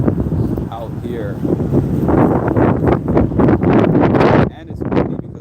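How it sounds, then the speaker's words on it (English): Wind gusts over a boardwalk in New York City, a steady rushing roar buffeting the microphone and rising and falling across the stretch, dropping off briefly near the end. "And it's windy because I'm here."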